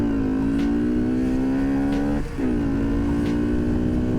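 A car engine with a worn, slipping clutch revs steadily at a high, droning pitch, dips briefly midway and then climbs back, loud and alone with no talking.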